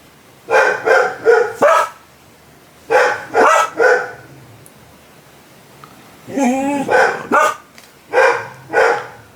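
A dog barks loudly and close by in repeated bursts of three or four, pausing briefly between volleys.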